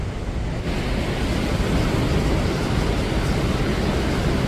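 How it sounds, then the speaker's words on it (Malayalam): Water released after power generation from a hydroelectric plant plunges over Gaganachukki waterfall at Shivanasamudra, Karnataka: a loud, continuous, heavy roar with low rumbling and wind buffeting the microphone, and no talk. "ഇലക്ട്രിസിറ്റി ഉൽപ്പാദിപ്പിച്ചതിന് ശേഷം പുറന്തള്ളുന്ന വെള്ളം കണ്ടോ അത് അവിടെ ഒരു ഫോൾസാണ്"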